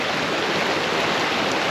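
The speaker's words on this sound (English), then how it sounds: "There's a lot of water running through here" Flood water rushes through a creek after a hard rain storm, a steady loud broadband roar of moving water with no pauses.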